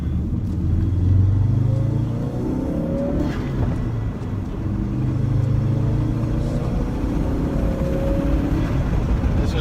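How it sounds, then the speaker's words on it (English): Ford Focus RS engine intake heard from inside the car while driving, a steady loud rumble with gentle surges as it accelerates, continuous throughout with no talking. "So the intake sounds great"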